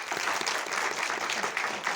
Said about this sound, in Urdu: آپ سب تالیاں بجائیں